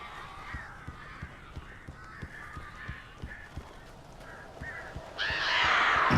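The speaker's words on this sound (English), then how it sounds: "These birds are weird." Birds in the Alan Wake video game, caw-like calls repeating in short bursts over a dull rhythmic thumping, moderately close, ending in a louder rush of flapping-like noise; no speech.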